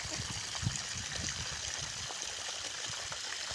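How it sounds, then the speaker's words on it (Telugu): Irrigation water flows beneath mulching paper in a crop field under blazing sun, a faint, steady trickle with no talking. "మల్చింగ్ పేపర్ సెంటర్లో చూడండి, వాటర్ వదులుతూ"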